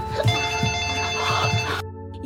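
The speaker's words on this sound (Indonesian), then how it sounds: "tiba-tiba suara telepon berdering" A telephone rings with a steady, bright electronic trill that stops abruptly near the end, over a busy background with low thumps.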